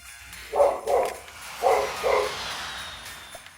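A dog barks indoors in two pairs of sharp, fairly close barks, with quiet room noise between them and no talking.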